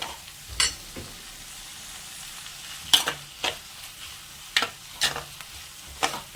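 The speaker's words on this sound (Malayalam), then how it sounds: "അപ്പൊ ഞാൻ സബോളൊക്കെ ഇട്ട് കൊടുത്തിട്ടുണ്ട്. നമുക്കൊന്ന് ഇളക്കി കൊടുക്കാം." Onions stirred while frying in a pan for a prawn dish, a soft continuous sizzle broken by several sharp spoon scrapes and clinks against the pan.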